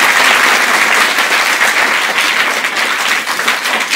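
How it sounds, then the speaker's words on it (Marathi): A crowd at a satsang gathering claps loudly, close and continuous, a thick unbroken wall of applause that holds for several seconds. "टाळ्या वाजवा जोरात"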